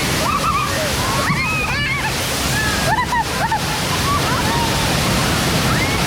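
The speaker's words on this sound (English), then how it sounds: "Bad news, looks like the water mains are broken. Yeah. This area is going to flood up pretty quickly" Rushing, sloshing floodwater from a burst water-main effect on a studio tour ride surges steadily and loudly, with whistles and squeals breaking through the roar.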